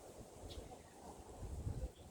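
Low, steady wind rumbles and buffets the microphone at Kadoorie Farm, faint and continuous, with a soft bird chirp in the background.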